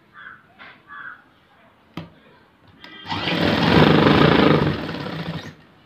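A sewing machine stitching a fold on a chudidhar pant, starting after a few sharp clicks and taps with a steady whirring run of about three seconds, loud and close.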